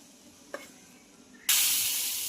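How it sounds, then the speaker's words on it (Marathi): A spring onion dhapate paratha hits a hot griddle: after a quiet stretch and a small tap, a sudden loud sizzle bursts out and holds steady, hissing close by. "दुसरा सुद्धा आपण पराठा तव्यावर घालणार आहोत"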